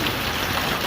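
Torrential rain pours down in a village, a dense, steady wash of hiss and patter that stays loud and unbroken throughout.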